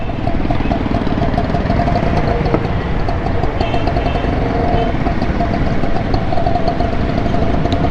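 A motorcycle engine idles on a Karachi street, a loud, steady low rumble with a constant throb close by under general street noise, and no one speaking.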